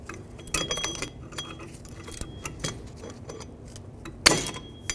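Light metallic clinks and jingles as a brake spring and parking brake cable are pried loose on the rear drum brakes of a 2002-06 Toyota Camry, close by with a sharper clatter near the end and no talking.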